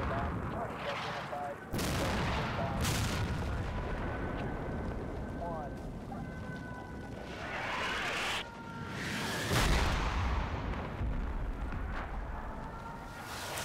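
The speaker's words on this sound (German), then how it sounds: "Sag ich doch, der schießt wieder." Gunfire and heavy weapon bursts in the modern combat video game Combat Mission Shock Force 2, several loud broadband cracks and rumbling blasts spread across the scene beneath a continuous battlefield din, with someone talking over it.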